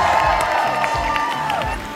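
An audience at a wedding expo show cheers and shouts, a steady, loud wash of crowd voices with scattered whoops.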